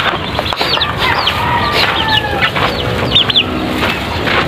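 A brooding native hen clucks amid other chickens in a coop, with busy overlapping clucks and calls, fairly close and continuous.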